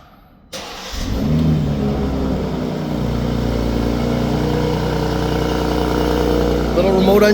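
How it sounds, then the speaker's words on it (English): A 2026 BMW M340i xDrive in Skyscraper Grey Metallic cold-starts by remote: after a brief quiet moment the engine cranks and fires with a sharp rev flare, then settles into a loud steady high idle that swells again near the end. "Little remote engine start, cold start sound test"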